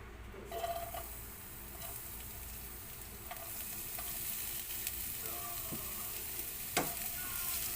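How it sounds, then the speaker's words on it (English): Garlic and ginger sautéing in olive oil in a frying pan for beef and broccoli stir fry, a steady close sizzle throughout with occasional utensil taps and scrapes, no talking. "Just to saute for 1 minute."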